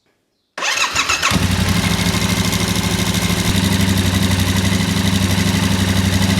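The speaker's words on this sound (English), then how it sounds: "start the engine" A Yamaha Tenere 700 motorcycle engine cranks and fires after a moment of quiet, then settles into a loud, steady, close-up idle with an even mechanical pulse.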